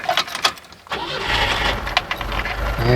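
A Soviet VAZ-2102 car's engine cranks and catches, rising into a steady rumble inside the cabin after some brief rattling and keys at the start.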